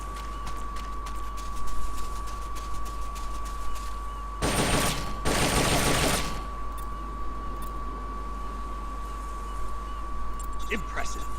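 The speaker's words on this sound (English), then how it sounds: "The M16 is a standard assault rifle, capable of rapid fire." M16 assault rifle in Metal Gear Solid: Peace Walker letting off two short, loud bursts of rapid automatic fire over a steady game tone, with a voice talking around it.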